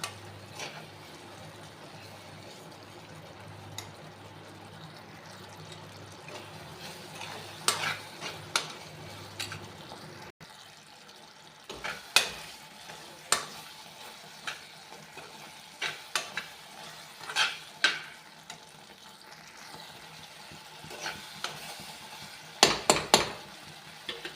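Amla pickle simmers in syrup in a pan over a low gas flame, a faint steady sizzle under a low hum, broken by soft scrapes and clinks of stirring that grow more frequent later.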